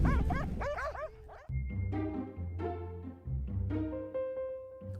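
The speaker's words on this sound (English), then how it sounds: "Huskies are the sled dogs of the north." Husky sled dogs in snowy northern Finland bark and yip excitedly, a close, busy chorus of howl-like whines and repeated barks over a low rumbling background.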